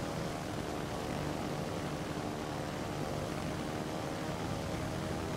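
Propeller aircraft engines from the World of Warships Legends video game, carrier planes returning to their ship, a steady continuous droning hum with no change in loudness and no voices.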